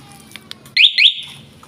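A two-way motorcycle alarm fitted to a Rusi Macho 150 gives two sharp, loud electronic chirps in quick succession, close by, preceded by a few faint clicks.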